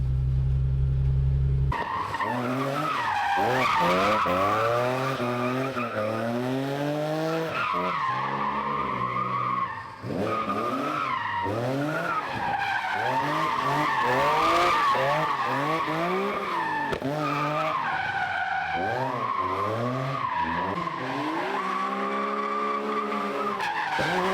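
Car lapping on new Accelera 351 Sport GD drift tires, with long screeching tire squeals and engine revs rising and falling in repeated drift passes, loud and continuous, no talking.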